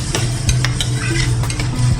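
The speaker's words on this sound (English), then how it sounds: "As soon as the onions go in, just raise the heat a little bit." Chopped onions fry in a pan over raised heat, a close, loud sizzle with quick rhythmic stirring scrapes and light clinks of a spoon against the metal.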